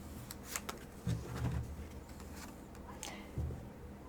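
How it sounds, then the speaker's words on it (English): Tarot cards being shuffled by hand, soft papery riffles and taps close by in short bursts over a quiet background, with no talking. "you saw that I shuffled the cards"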